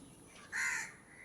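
Crows give a loud, close caw lasting about half a second over quiet outdoor background.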